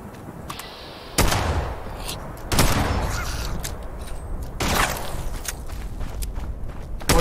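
Pump-action shotgun fire in the video game Fallout 76: three loud, sharp blasts spaced a second or two apart, each trailing into a rumbling decay, with light footstep-like clatter between shots.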